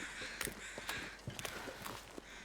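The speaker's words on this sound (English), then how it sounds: "I don't like those crows." Crows caw in short repeated bursts over a steady wind-like backdrop in the survival video game The Long Dark, with a few soft footstep-like crunches between calls.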